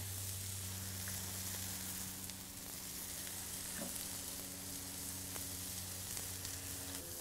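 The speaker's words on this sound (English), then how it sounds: "Onions and jalapenos are done." Onions and jalapenos sizzle in a pan for a bison bacon cheeseburger, a soft, steady frying hiss with a low hum beneath and a few faint utensil clicks, continuous and without talk.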